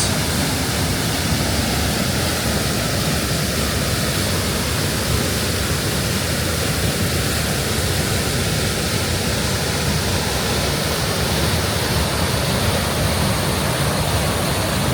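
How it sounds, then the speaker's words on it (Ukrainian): A constant, loud roar of the High Force waterfall on the River Tees in the North Pennines, England, broadband and unchanging, with no voices or other sounds breaking through. "Так він тече вниз туди. І падає вода."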